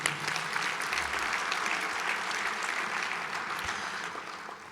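Steady applause from an audience at an evening speaking event, a dense wash of clapping that holds for several seconds and tapers off slightly toward the end.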